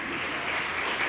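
Steady applause fills a student parliament session at an international spring colloquium, a crowd clapping evenly and loudly throughout.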